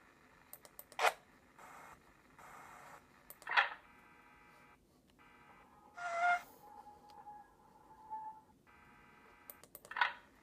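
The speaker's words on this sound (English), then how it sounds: "Smudger's moving, of course, as you can tell by the whistle." A thin electronic whistle sounds in a horror video game, brief tonal notes among beeps and clicks at low level, repeating in short bursts with quiet gaps.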